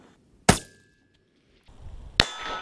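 Two sharp, loud rifle shots during long-range target shooting, a few seconds apart, each a sudden crack with a brief ringing tail and quiet between.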